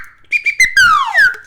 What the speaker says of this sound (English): I was looking for my slide whistle right there.